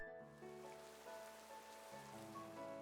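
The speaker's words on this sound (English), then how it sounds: "It's raining!" Steady rain pattering in Pokemon Scarlet/Violet, a continuous soft hiss under sustained game music tones throughout.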